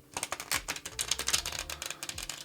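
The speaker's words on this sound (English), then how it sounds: "just going to start with a little bit of shuffling" A deck of tarot cards is shuffled close up, a quick crisp flutter of rapid clicking riffles in a dense rhythmic burst, with no talking.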